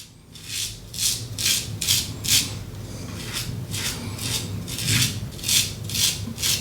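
A single edge safety razor scrapes through heavy facial hair lathered with shaving soap, a series of about a dozen crisp rasping strokes in steady rhythm, close and alone.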